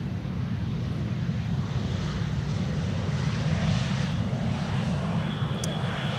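A fixed-wing airliner arriving at Amsterdam Schiphol Airport rumbles in a steady, broad, low engine roar heard from some distance, with light wind noise on the microphone.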